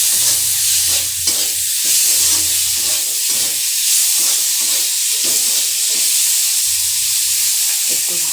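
Chopped tomatoes and turmeric fry in a pan, a loud continuous sizzle with regular scraping strokes as the mix is stirred, close and without talk.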